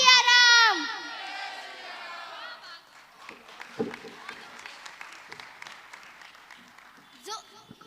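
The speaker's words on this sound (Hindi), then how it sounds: "जोरदार तालियां एक बार अक्षर रावल के लिए।" An audience at a children's poetry gathering in Ayodhya applauds a young poet, scattered clapping following a loud opening voice, with crowd murmur and a brief cheer near the end.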